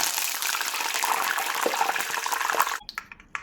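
Curry leaves dropped into hot oil in a kadai set off a loud, dense sizzling hiss. It cuts off abruptly near the end and leaves a few sparse crackles.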